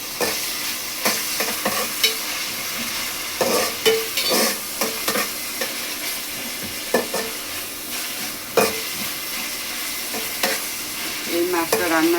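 Onions fry in a pan for fish curry, a loud continuous sizzle broken by repeated scraping and stirring knocks from a spatula, close up and with no voices.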